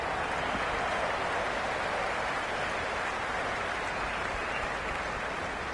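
A cricket stadium crowd in the Cricket 26 game keeps up a steady, dense wash of cheering and noise, even and sustained with no distinct voices standing out.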